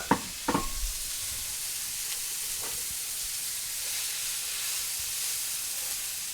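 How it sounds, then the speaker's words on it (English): Onions sautéing in oil in a pan while cooking birria, with a couple of sharp knocks from stirring at the start followed by a soft, even sizzle that continues to the end. "I'm going to saute some onions until they get translucent"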